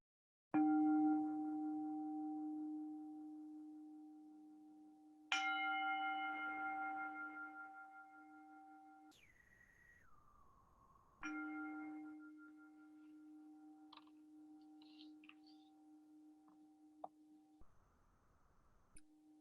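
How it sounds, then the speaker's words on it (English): A singing bowl is struck three times, each strike ringing out with a long, sustained metallic hum that slowly fades, with quiet pauses and faint rustling between. "I've got my singing bowl here, and I'm going to invite the bell and ring it 3 times"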